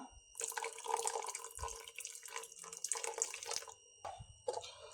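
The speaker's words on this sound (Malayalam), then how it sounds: "പുളിപ്പിന് വേണ്ടി ഒരു ലേശം പുളിവെള്ളം കൂടി ചേർത്ത് കൊടുക്കാം" Tamarind water poured into a simmering pot of Kerala pacha theeyal curry, a close, quiet trickle and splash of liquid with dripping for a few seconds, no talking.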